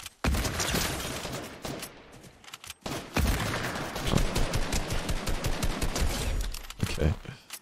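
Hunting rifle gunfire in the video game Fortnite, with loud, dense bursts of shots cracking almost continuously across the stretch and a short lull near the middle.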